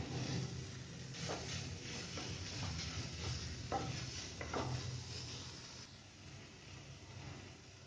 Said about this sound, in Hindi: पनीर को अच्छे से मैश कर लेंगे इसमें।